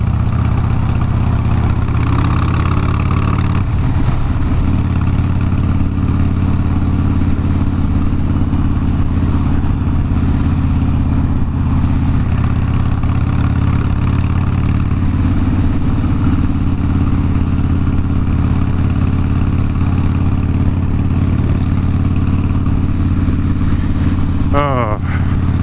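A Harley-Davidson motorcycle engine runs loud and steady throughout, a deep continuous rumble with a brief shift near the end as it goes into sixth gear; a rider talks over it.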